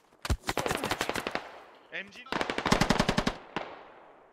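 Machine gun fire in the tactical shooter game Squad: two sustained automatic bursts of rapid, evenly spaced shots, loud and close, separated by a brief pause and ending with one last single shot.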